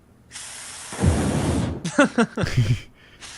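An aerosol can sprays a steady, loud hiss of gas into the air for about a second. Clicking, rattling bursts and brief voices follow close by.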